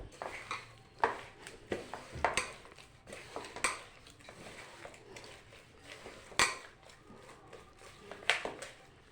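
Saj pitha batter being mixed in a bowl, with repeated clinks and scrapes of a utensil against the bowl in an irregular rhythm, close and moderately loud, with no one talking.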